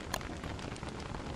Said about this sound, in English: it's still fucking raining for me.